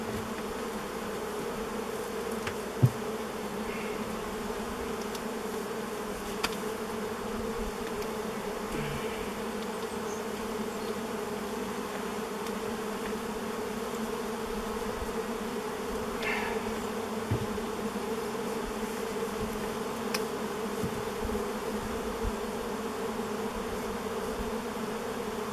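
Bees swarm around an old beehive left unopened for over 30 years, a steady close drone of buzzing throughout with a few faint clicks and no talking.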